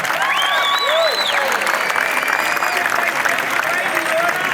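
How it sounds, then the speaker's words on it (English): Applause and scattered cheers fill a crowd at a protest rally in Sydney, a dense, sustained clapping close by with whistles and voices rising over it. "give a big round of applause to them as well"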